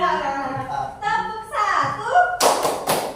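Several sharp hand claps ring out near the end of a patterned clapping exercise in a special-needs school class, after a stretch where a voice talks.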